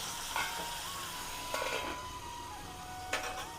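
Tomatoes frying in a pan give a soft, steady sizzle, broken now and then by brief louder crackles or stirring clinks.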